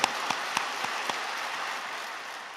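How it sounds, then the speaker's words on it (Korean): A church congregation at a Wednesday worship service at Yoido Full Gospel Church applauds its elders: a few sharp, distinct claps open into a steady, fairly quiet wash of crowd clapping that holds to the end. "장로들한테 박수 한번 보내줘요"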